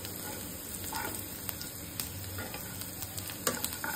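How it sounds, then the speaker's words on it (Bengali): Chopped onion fries in hot oil with cumin and cloves in a pan, a steady soft sizzle with light crackles and occasional stirring clicks, fairly quiet and close with no talking. "পেঁয়াজ কুচিটাকে আমি লাল লাল করে ভেজে নেব।"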